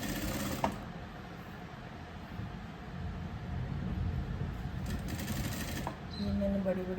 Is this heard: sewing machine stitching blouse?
yes